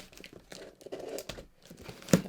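Tape peeled off a package: crinkly, irregular tearing and rustling, with a sharp louder rip near the end.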